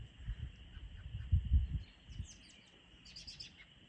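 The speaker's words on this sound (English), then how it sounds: "The peepers, the birds." Birds chirp and tweet in a quiet outdoor setting on a homestead, with a steady high trilling of spring peepers in the background and soft low rustling up close.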